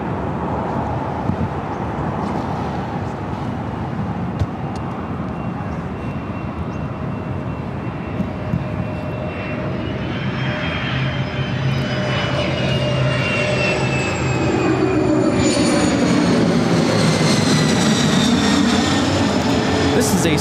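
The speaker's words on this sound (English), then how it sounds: "This is a Cessna 525B Citation CJ3." A Cessna 525B Citation CJ3 business jet passing at an airport, with a continuous loud jet-engine roar and whine that swells and shifts in pitch, rising toward the end.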